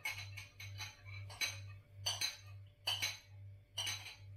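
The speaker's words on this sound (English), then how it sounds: "And mix that up." A sweet sauce stirred briskly in a bowl for a chicken and cashew nut dish, the spoon clinking rhythmically against the sides in quick repeated strokes over a steady low hum, close and clear.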